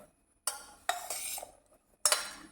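Ash gourd pieces are stirred with salt and curry leaves inside a pressure cooker, giving three short bursts of scraping, clinking spoon-on-metal sounds separated by brief silences, with no voices.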